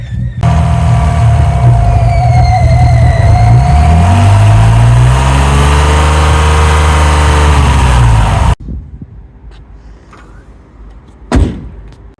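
A loud, rusty old Alfa Romeo car engine runs steadily with a thin intake whistling tone riding above it, then cuts off abruptly, leaving quiet rustling and a brief thump.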